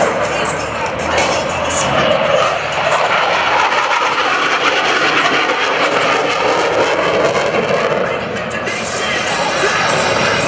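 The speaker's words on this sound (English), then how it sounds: "he's experiencing 7 times the force of gravity as he maneuvers this airplane in a very, very tight circle" An F/A-18C Hornet jet roars loud and continuous during a very tight minimum-radius turn at an air show demonstration, with crowd noise beneath.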